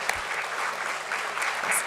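Audience applause at a stock exchange listing ceremony for DOMS Industries Limited at BSE, a steady burst of clapping from a crowd that holds through the whole moment without fading.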